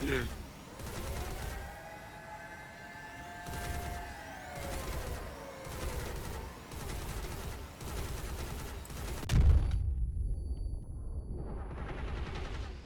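Weapons fire in a drone-combat video game: repeated loud, evenly spaced shots over a sustained tonal hum and sweeping whine, ending in a heavy blast that drops to near silence before a rising tone.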